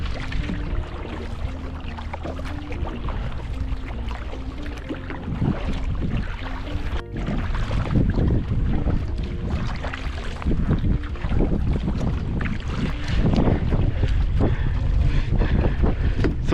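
Paddling a canoe against the current on a Swedish river trip: rhythmic paddle strokes and water sloshing under steady wind buffeting the microphone, close and continuous.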